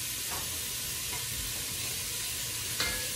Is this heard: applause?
no